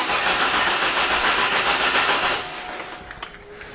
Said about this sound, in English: running the starter, you can hear that it has a very nice even flow to the starting